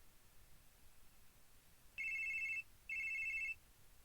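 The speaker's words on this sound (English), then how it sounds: "Whoa, the phone!" An internal telephone rings in the mystery video game The Case Book of Arne, two clear electronic trills separated by a brief pause, sharp and prominent over a faint quiet background, with no talking.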